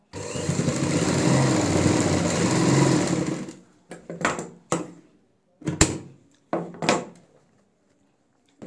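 A sewing machine stitches a corner point on a ladies' handbag, running steadily for over three seconds before stopping, followed by several short stop-start bursts of close mechanical clatter.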